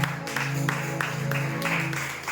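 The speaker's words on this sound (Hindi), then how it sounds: "आइए उस इमानुएल परमेश्वर के लिए जोरदार ताली बजाते हैं।" A Sunday church congregation claps in a strong, even rhythm of bursts over sustained musical tones, close and continuous.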